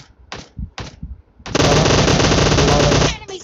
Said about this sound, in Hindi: शॉट फायर करके हमको ललचाया जा रहा है।